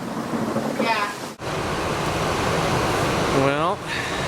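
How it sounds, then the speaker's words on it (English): Heavy rain pours steadily during a thunderstorm over the flooding Canada del Oro Wash in Oro Valley, a dense, loud, continuous hiss, while a voice speaks briefly over it twice. "Oh, I can feel the rain now."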